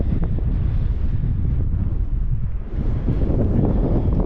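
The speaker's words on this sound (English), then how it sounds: "It's getting pretty windy." Strong wind on a Maine mountain approach buffets the microphone in a constant low roar, loud and unbroken for the whole stretch.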